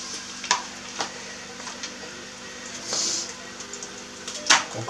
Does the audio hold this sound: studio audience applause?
no